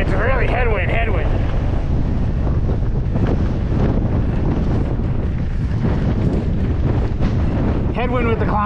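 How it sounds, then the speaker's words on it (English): A strong 15 to 20 mph headwind buffets the microphone during a mountain bike ride on the Cactus Slalom Trail near Las Vegas, a loud, constant roar with a brief voice at the start and end. "Woo, now it's really headwind."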